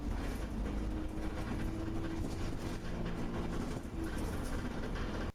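Steady rumbling drone of a city bus engine and gearbox running, with the clutch locking and the transmission shifting into fourth gear, continuous and moderately loud with no talk.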